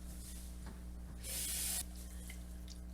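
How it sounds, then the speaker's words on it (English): Water poured into canned tomato sauce, a brief soft splashing rush in the middle of a quiet kitchen moment, faint and close. "we're going to add a little bit of water."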